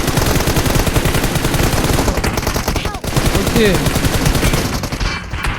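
Close, loud automatic gunfire in PUBG Mobile sounds as rapid, evenly spaced bursts that continue almost without pause, dipping briefly once.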